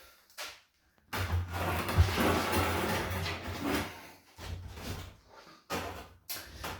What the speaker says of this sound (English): That key fits the lock on this door, which is great.